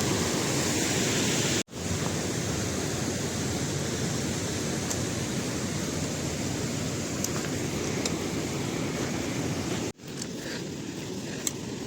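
A river in monsoon rain on a mountain trek flows with steady, loud rushing water, continuous with no voices, broken by two brief cuts in the sound.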